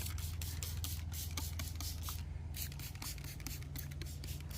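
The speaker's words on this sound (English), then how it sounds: "I'm just gonna spray it down with a little bit of that same spritz." Repeated short hissing spritzes from a spray bottle onto butcher paper wrapping a Wagyu brisket, a steady rhythm of bursts over a constant low hum in the background.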